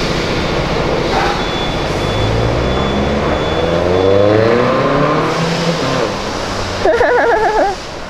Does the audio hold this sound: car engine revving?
yes